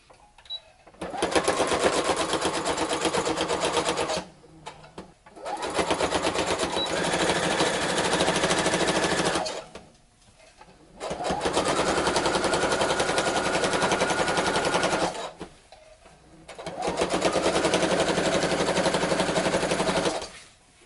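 A sewing machine top stitching a jacket lining in four long, loud, rapid runs, each separated by a brief pause.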